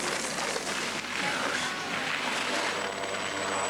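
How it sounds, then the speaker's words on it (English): A helicopter roars steadily and loudly over a ski downhill course at Val d'Isere, France, its dense rotor and engine noise filling the whole stretch without a break. "There's a helicopter on the course."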